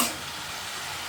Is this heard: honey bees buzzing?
no